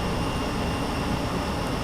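Steady airport ramp rumble with a continuous mechanical whine as a jet bridge retracts from an airliner at the gate in Microsoft Flight Simulator, loud and unbroken with no voices.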